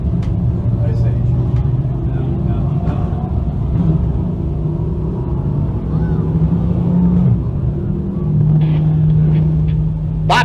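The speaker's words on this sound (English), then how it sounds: "Bob Johnson Dirt Car Sportsman Cars coming out onto the speedway for their feature go tonight" Dirt Car Sportsman race cars roll onto a speedway for their feature, a steady low engine rumble with a few rising throttle tones, broad and continuous rather than close, with people talking under it.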